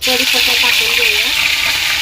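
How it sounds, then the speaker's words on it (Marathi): Curry leaves and cumin crackling in hot oil for a ridge gourd and moong dal dish, a close, steady sizzle with faint voice-like tones underneath. "कढीपत्ता टाकून घेऊया"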